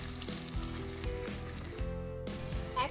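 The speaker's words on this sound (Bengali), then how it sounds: "এবার পেস্ট করা পালং শাকটা দিয়ে দেবো" Spinach paste for palak paneer hits a hot pan and sizzles steadily and loudly throughout, with fried fenugreek already in the oil and occasional stirring clatter; no voices.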